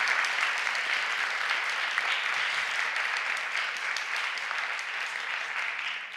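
Audience applause for a panel at a theater-related public talk, a steady dense clapping that holds at an even level for about six seconds, with no voices over it.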